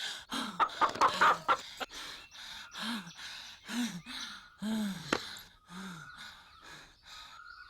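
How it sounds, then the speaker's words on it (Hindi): A hen clucks in a string of short, agitated bursts while running away, close and fairly faint, mixed with heavy breathing and gasps from someone giving chase. "मुर्गी भाग रही है, पकड़ना"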